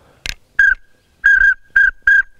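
A whistling duck call imitating a pintail whistles out several short, bright, steady-pitched notes in an uneven rhythm, close and clear, with no talking.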